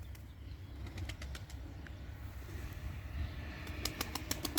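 A pigeon's wings flap in short bursts near a loft, the flutters rising toward the end over a low steady hum of background rumble, with no voices present.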